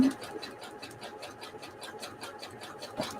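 A sewing machine stitches fabric scrap pieces together, its needle chattering in a fast, even rhythm up close, with a voice talking over it.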